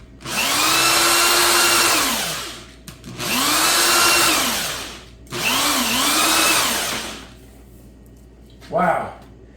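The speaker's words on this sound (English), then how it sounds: "I'm having a really tough time with the drill" A handheld drill buffs scratches out of a car windshield in three long whirring bursts, its pitch sagging under load and rising again as it eases off, followed by a brief shorter burst.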